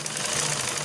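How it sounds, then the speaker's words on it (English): Sewing machine running steadily as it stitches a half-inch seam on a shift dress, a close, continuous mechanical whir with a low motor hum for under a second. "And then place it under our machine to sew."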